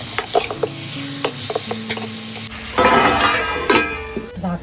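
Mutton pieces dropped into hot oil with red chilli masala give a close sizzle and frying hiss, with spoon stirring scrapes and clinks against the pot, the sizzle swelling louder near the end.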